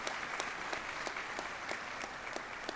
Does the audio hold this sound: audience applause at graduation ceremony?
yes